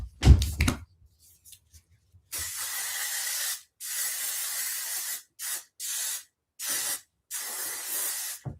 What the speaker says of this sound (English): I need to put some shine spray on.